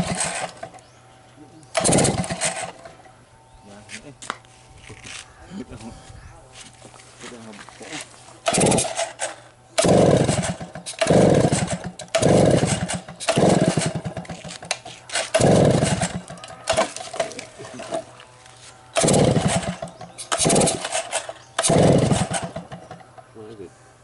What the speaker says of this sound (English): Choke it, Tate. All the way. Choke the piss out of it